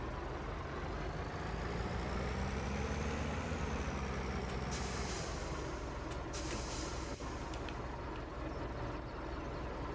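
A truck in Farming Simulator 17 idles with a steady engine drone, then its air brake releases in a sharp hiss followed by a second burst, close and loud over the engine.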